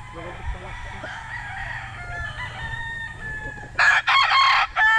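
Roosters crow at a gamefowl farm stocked mostly with bulik-colored birds, several overlapping calls mid-distance, then a loud close crow bursting in near the end over a steady low hum.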